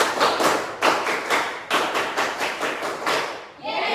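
A classroom of students claps in counted rounds during a cheer, producing bursts of sharp group clapping with brief pauses between rounds, fairly close and loud.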